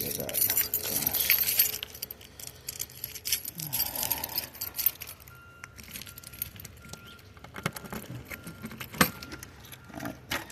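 A bunch of keys jangles and clinks near and loud while someone hunts for the right key at a fiber install site, with metallic rattling strongest at the start and then fading into lighter clinks, with some speech nearby.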